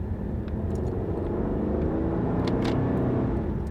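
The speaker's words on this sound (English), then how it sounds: "We'll downshift there." Holden Commodore with a manual-shift automatic, heard from inside while driving: a steady engine drone and road rumble as the car downshifts, with no talking.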